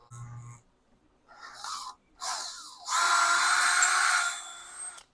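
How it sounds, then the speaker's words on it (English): Short bursts of a high, whining power drill start and stop, then one longer sustained run of drilling, fairly close and loud. "let's get drilling"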